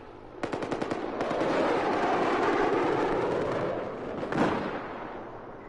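A small gun fires in Battlefield 4, opening with a quick burst of distinct shots and rolling into a loud, sustained roar of automatic fire, then a sharp report near the end before fading.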